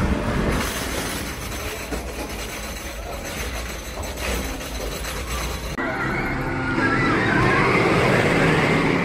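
Wickerman wooden roller coaster at Alton Towers on a ride: a steady loud rumble of rattling train cars and clattering wheels, with a shift in tone partway through as the train rolls on.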